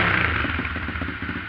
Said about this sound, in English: Just kind of idling a little bit of revs.